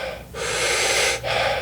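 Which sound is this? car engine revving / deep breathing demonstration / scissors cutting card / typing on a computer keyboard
deep breathing demonstration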